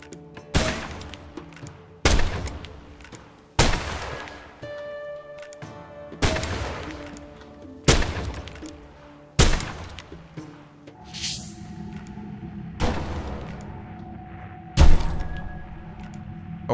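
Gunshots in the video game Assassin's Creed, set in the Sikh Empire of 1841: about ten loud, sharp booming shots spaced roughly every one to two seconds, each followed by a decaying ring, with no speech.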